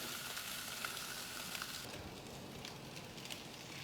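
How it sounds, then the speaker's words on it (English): Steady, dense sizzling of a ribeye steak searing on the grill grates of a Kamado Joe Kettle Joe, a constant crackling hiss with small pops, close and fairly loud throughout. "Hear that sizzle, baby."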